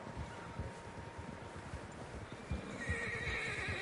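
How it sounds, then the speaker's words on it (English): Horses neigh and whinny in Red Dead Redemption 2 over scattered hoof clops and a breezy outdoor ambience, fairly faint and distant, with a louder cluster near the end. "Horses, quite a few of them."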